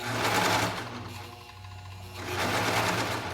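A serger sewing machine stitches fabric around a circle, overlapping the seam. The close, steady mechanical whir briefly eases off and then speeds back up, with no talking.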